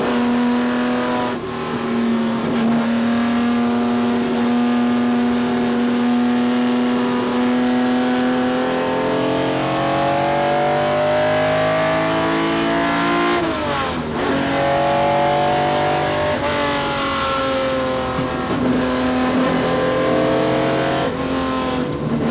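A Ferrari 250 GTO race car engine runs loud and close, revving up and down through several gear changes with rising and falling harmonic tones, steady throughout with no voices.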